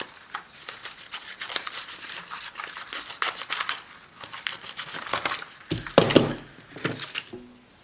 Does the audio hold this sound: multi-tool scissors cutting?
yes